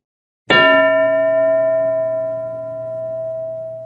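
A bell is struck once during a classroom lesson, giving a sharp metallic clang that rings on as a long, steady, slowly fading tone with nothing else heard.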